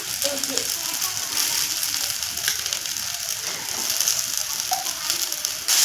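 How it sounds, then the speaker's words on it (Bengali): Noodles being stirred in a pan with fried eggs for restaurant-style chow mein, a steady sizzle under rapid scraping and clicking of a utensil against the pan, continuous and fairly close. "ডিমগুলো দিয়ে আবারও আমি নাড়াতাড়া করছি এখন"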